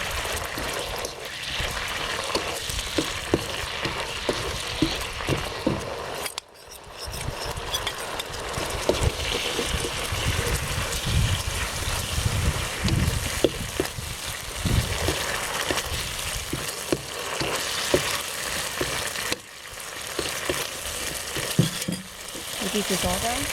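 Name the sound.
shrimp and scallops frying in a wok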